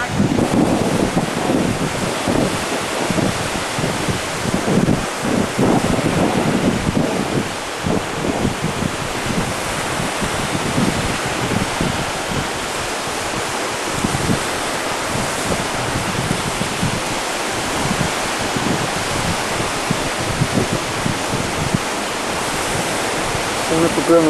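Surf and rushing seawater wash steadily along a beach, mixed with heavy wind buffeting on the microphone, a dense continuous roar with occasional faint voices underneath.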